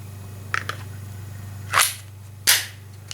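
A handgun fired twice at about a second's interval, each shot a sharp crack with a short tail over a steady low hum, after two faint earlier clicks.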